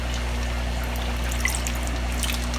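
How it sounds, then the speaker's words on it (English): Water is slowly poured out of a bowl holding a betta fish, giving a soft continuous trickle and splash over a steady low hum, with no voices. "pour this betta out"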